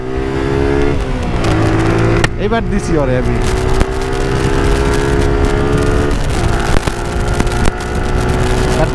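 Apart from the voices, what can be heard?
Honda CB Hornet and Suzuki Gixxer motorcycles accelerating in drag race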